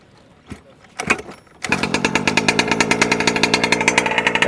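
A Losi 5T radio-controlled car's small gas engine being started: a couple of pull-start tugs, then it catches and settles into a loud, rapid, buzzing idle close by.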